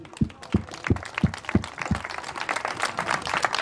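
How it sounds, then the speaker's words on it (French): A small group claps at a windsurfing race podium ceremony, starting with distinct, evenly spaced loud claps that blur into denser, scattered applause, with no voices over it. "Moi je t'applaudis en tout cas."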